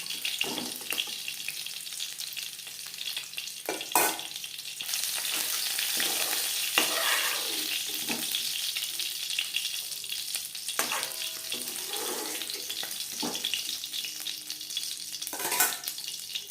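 Shing fish (stinging catfish) frying in hot oil for a curry, a steady bubbling sizzle throughout with occasional sharp crackles and stirring scrapes, close and with no talk.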